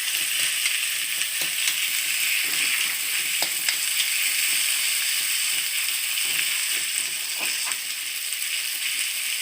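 Mustard paste sizzling steadily in a pan with chopped onion and green chili, a dense continuous fry hiss with occasional crackles and soft stirring scrapes, no voices.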